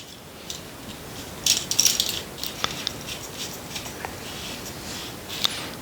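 Small metal clicks and ratcheting snaps of a portable DIY vise being tightened quickly with its metal clip, sounding close and light, a few sharper clicks standing out over a quiet background.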